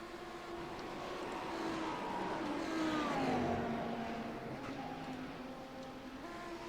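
The No. 42 race car lapping the Nürburgring Nordschleife during the 24 Hours race, its engine note rising and falling through the turns as it sweeps past, moderately loud and steady.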